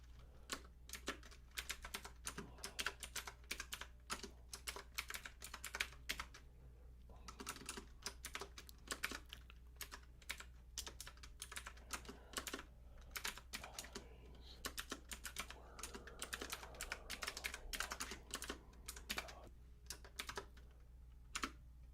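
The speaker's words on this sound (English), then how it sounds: "I can type it in." Steady typing on a computer keyboard, dense rapid key clicks in bursts with brief pauses, close and clear over a low hum, no talking.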